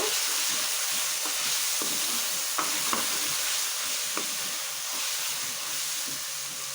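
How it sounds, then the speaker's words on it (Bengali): Boiled leafy greens, browned first, are stirred in a frying pan, with a steady sizzle and hiss under scattered scrapes of a utensil against the pan. No voices are present. "নেড়ে নেব।"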